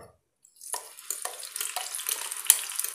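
Ground spice paste for a white chickpea curry dropped into hot coconut oil. It erupts after a brief silence into a loud, hissing sizzle with sharp spitting crackles that continues to the end.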